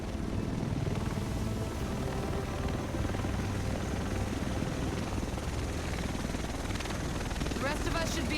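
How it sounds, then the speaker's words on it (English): Helicopter from the video game The Division arriving over Manhattan, a loud steady rotor and engine roar filling the whole stretch under dense in-game sound and voices. "The rest of us should be in this chopper."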